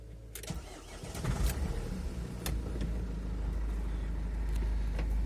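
A Renault Master van engine cranks and catches, then settles into a steady low rumble close by, with a few clicks at the start.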